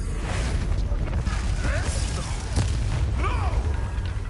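A fire spell blast from a wizard video game booms with roaring, crackling bursts and whooshing sweeps over a heavy, dense low rumble, loud and sustained, with a voice briefly mixed in.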